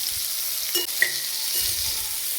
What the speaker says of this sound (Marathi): नंतर सगळी भेंडी तेलात चांगली परतून घेतली.